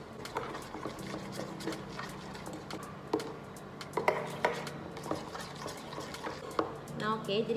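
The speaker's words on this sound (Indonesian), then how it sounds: "Kita aduk terus sampai dia mencair, supaya nggak ada lagi buliran-buliran gulanya." Sugar is stirred in a pan until it melts, giving soft scraping and clinking taps of a utensil against the metal at an irregular pace. The sound is quiet and close, with faint kitchen background noise.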